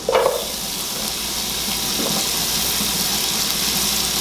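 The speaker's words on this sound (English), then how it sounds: "this is sizzling butter" Steady sizzling hiss of butter frying in a pan before onions go in, a continuous crackly wash with a faint clink near the start.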